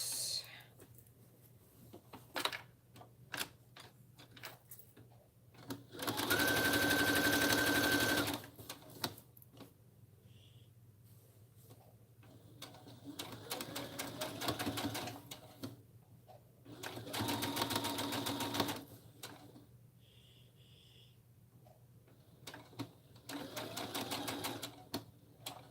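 Sewing machine stitching trench coat fabric in three bursts of fast, steady running, each several seconds long, with quiet handling noises and soft movement between them.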